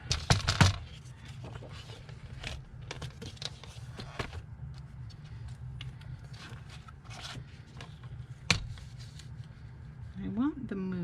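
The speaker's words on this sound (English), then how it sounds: "So I'm gonna just grab my paper cutter" Paper is trimmed with a paper cutter while making journal tags, giving scattered scraping, sliding and clicking handling noises close up. A few sharper snaps stand out, and a person talks over them.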